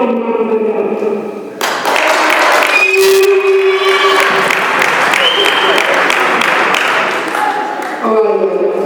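Loud, close round of applause from an audience at a youth male forum in a community center, with cheers and shouts mixed into the clapping and tonal voices or music at the start and end.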